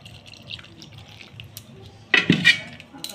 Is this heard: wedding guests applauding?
no